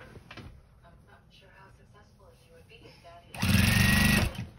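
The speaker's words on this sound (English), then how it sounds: "As I'm sewing this along, I bet you I don't have enough binding made." Sewing machine stitching binding on a quilt-as-you-go denim blanket, first heard faintly under a woman's speech, then running loud and steady for about a second near the end.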